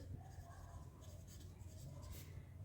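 Pen or marker writing on paper while a maths problem is worked out in a tutorial, a steady soft scratching over low background hum throughout, with no voice during the stroke.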